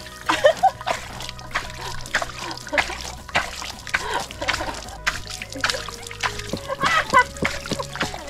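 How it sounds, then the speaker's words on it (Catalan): A small mountain stream along the Via del Nicolau near Bagà in the Berguedà splashes and trickles close by, with repeated irregular splashes and slosh over a steady water murmur. "Ens hem trobat amb una miqueta d'aigua aquí, un mini rierol"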